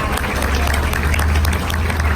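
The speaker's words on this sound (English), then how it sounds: "You all give her a round of applause." Audience applause at a mayoral speaking event, a dense, steady wash of clapping over a low rumble of crowd noise, with no clear voice standing out.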